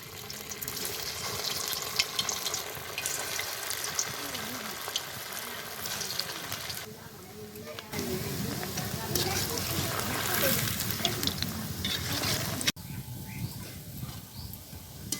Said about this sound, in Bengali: তেলে এখন পিঠেগুলো দিয়ে দিচ্ছি।